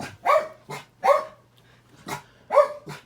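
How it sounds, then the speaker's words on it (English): A dog barking at someone outside the front of the house, five sharp barks in an uneven rhythm, fairly close and loud, with a faint steady hum underneath. "My dog will see somebody outside front."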